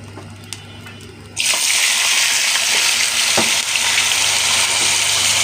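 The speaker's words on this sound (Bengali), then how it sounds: "আলু ভাজি" Potatoes dropped into hot oil in a home kitchen burst into a loud, steady sizzle after a quiet start with faint clinks, the crackling frying continuing close and unbroken.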